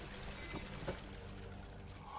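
Water poured from a bucket in a video game, a faint, steady splashing pour lasting a couple of seconds, quiet and alone.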